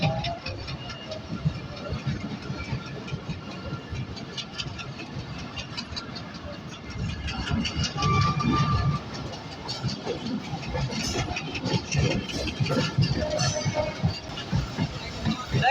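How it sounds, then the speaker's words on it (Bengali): A local passenger train in Bangladesh rumbles steadily along the rails, with engine drone and faint rhythmic clatter throughout, and a brief higher tone midway. "আজকে যাচ্ছি লোকাল ট্রেন"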